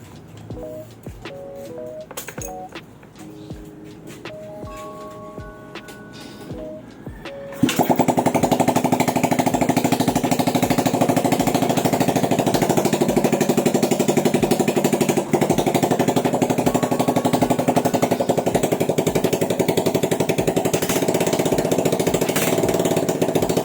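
A flooded-carburetor Suzuki Skydrive scooter engine catches after a quiet stretch of clicks and faint tones, then settles into a loud, steady, rattly idle that runs on unbroken, close and without speech.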